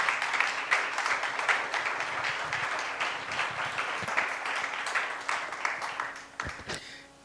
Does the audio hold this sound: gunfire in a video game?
no